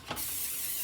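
Cooking spray from a can hisses onto a kitchen pan in one short, close burst that starts abruptly and holds steady.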